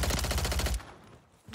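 Rapid automatic gunfire in the Warzone 3 video game on Rebirth Island, a loud, dense burst of shots lasting under a second before cutting off to quieter game ambience, with no talking.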